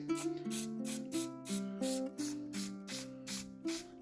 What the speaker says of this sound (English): the first thing I want to do is spray it lightly